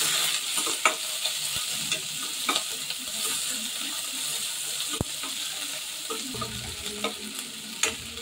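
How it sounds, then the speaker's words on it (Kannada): Chopped onions sizzling in a pan as a spoon stirs and scrapes, a steady close frying hiss broken by sharp clacks of the utensil against the pan. "ಇದು 1 ನಿಮಿಷ ಸ್ವಲ್ಪ ಸ್ಮೂತ್ ಆಗೋವರೆಗೂ ಫ್ರೈ ಮಾಡಿ."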